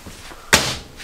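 A cupboard door in a 2019 Grand Design Transcend RV travel trailer shuts with a single sharp, close slam and a brief hollow thud, then quiet.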